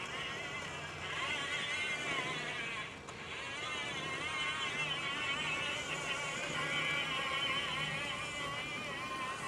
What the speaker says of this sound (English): You can hear the engine running right now.